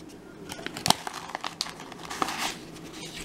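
A paper envelope of happy mail is opened by hand, with close, quiet crinkling and rustling of paper and a few sharper crackles and tears spread across a few seconds, no one speaking.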